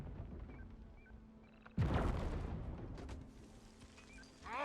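A satchel charge detonates in Deep Rock Galactic, a sudden loud blast that cuts through quieter game ambience and rumbles on for a couple of seconds.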